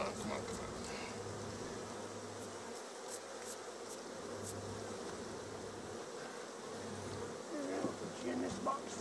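Bees, including yellow jackets, buzz steadily and densely throughout a backyard honey harvest, a continuous close swarm hum that never lets up.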